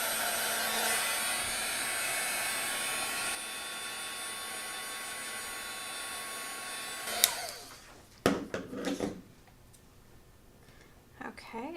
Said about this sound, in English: Then I'm going to use my heat tool to